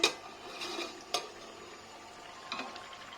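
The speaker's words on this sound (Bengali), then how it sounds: "আর এখানে একটু মাছের তরকারি হচ্ছে" Fish curry with potato and pointed gourd cooking in a pot in a home kitchen, with a few soft stirring scrapes and light clinks of a utensil against the pot, faint and close, with no talking.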